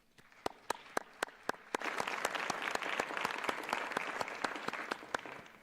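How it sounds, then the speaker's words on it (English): Sustained audience applause at a youth leadership summit in Johannesburg, beginning with a few loud, separate claps and swelling into dense, steady clapping from a large crowd. "So I think you can give yourselves a wonderful round of applause."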